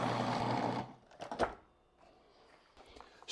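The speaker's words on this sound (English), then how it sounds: "your fruit's frozen solid, like that, it's ready for the food processor. Just your fruit, nothing else. Start by pulsing." A food processor pulses frozen mandarin fruit: a loud grinding whir cuts off after about a second, followed by short clattering bursts and a brief final restart.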